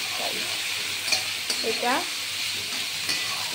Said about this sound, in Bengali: সামান্য লবণ হলুদ দিয়ে ভাজা হবে।